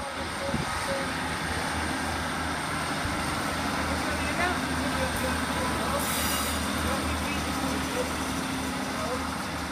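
A Class 156 diesel multiple unit train idles at Lincoln Central station with a steady low engine rumble and continuous broadband hum, a faint high tone rising briefly near the end.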